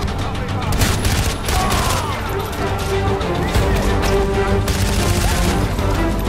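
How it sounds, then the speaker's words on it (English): A big explosion in the Far Cry video game as an enemy blows up, a dense, continuous roar of blasts and crackling debris that keeps going loudly throughout. "Oh, he blew up!"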